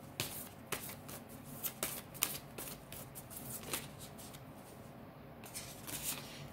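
Tarot cards are shuffled and drawn by hand in a quiet room, producing faint, soft riffling and papery slaps that come in short irregular bursts, with no voice.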